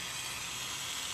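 A hot soldered metal bangle hisses steadily as it is quenched in water, a continuous broadband steam hiss held at an even level for the whole moment.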